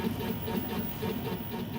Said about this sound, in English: You hear a constant hum.